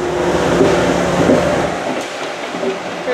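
A VIA Rail train hauled by a P42DN locomotive passes, a broad steady roar of rolling wheels and rail noise at moderate distance, fading slightly toward the end.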